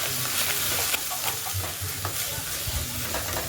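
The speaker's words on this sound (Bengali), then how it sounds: "দেওয়া হয়ে গেলে মশলাটাকে ভালো করে কষে নিতে হবে" Mixed vegetables fry in oil with turmeric and chili powder for a Bengali chorchori, a dense, loud, continuous hiss with scattered stirring scrapes and no voices.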